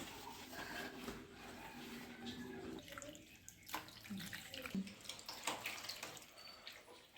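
Tap water runs over dishes being washed by hand in a home kitchen sink, a soft, steady splash with small clatters of dishware, fairly faint and continuous throughout.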